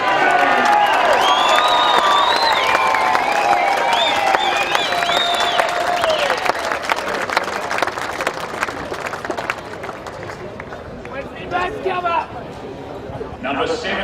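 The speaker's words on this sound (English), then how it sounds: "Got a feeling our next one might get a loud cheer." A loud crowd cheers and applauds at the 2018 Bendigo football grand final between Eaglehawk and Strathfieldsaye, a sustained roar with a public-address announcer talking over it.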